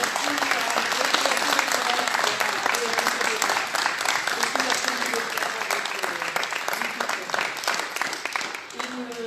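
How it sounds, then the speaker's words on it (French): A council chamber audience claps for the mayor of Hennebont at a municipal installation session, a full sustained round of applause with a few voices murmuring underneath, easing off slightly near the end. "je voudrais qu'on puisse l'applaudir"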